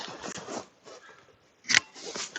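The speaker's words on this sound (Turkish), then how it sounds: "Burada bir kesim yapıyoruz." Grafting scissors snip through a plant stem while a rootstock is prepared for grafting, giving one sharp, loud cut near the end, preceded by softer rustling and handling noises.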